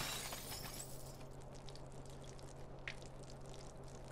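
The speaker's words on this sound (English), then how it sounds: "I hope those weren't the toxic chemicals I was just talking about that broke on the floor just now." Glass chemical bottles shatter on a floor in the South Park video game, with a loud initial smash followed by scattered tinkling debris and a few sharp clinks against a quiet low hum.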